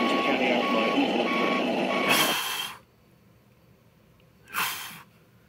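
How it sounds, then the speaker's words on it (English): A fuel delivery truck sounds its reversing beeps, with two sharp, loud bursts standing out over a busy background of sound. "Oh, it's just a gas truck just trying to deliver some fuel."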